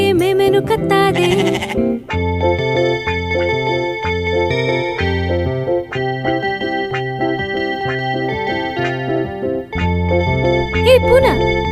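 A lamb bleats over a bouncy Tamil nursery rhyme tune, wavering cries at the start and again near the end, riding loudly on top of steady instrumental music.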